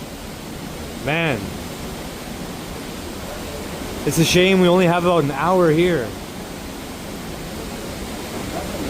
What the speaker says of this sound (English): Now we got a cave and waterfalls.